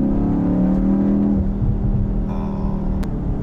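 A BMW X1 M35i compact SUV in sport mode, its engine giving a loud, deep, steady drone that rises in pitch briefly, then settles into a lower rumble.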